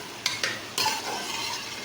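Okra and onion being lightly roasted in ghee in a pan, with a few distinct scrapes and stirs of a spoon over a steady, close sizzle of frying.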